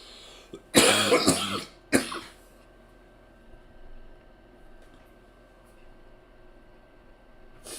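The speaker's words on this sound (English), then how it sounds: "And we got this cough. That just won't quit." A harsh, close cough burst rings out twice in quick succession, followed by a single shorter cough, then a low background hum.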